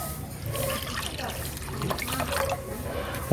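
A cup of water poured into a bun parotta dough mix of sugar, salt and milk, a brief gurgling, splashing pour close by.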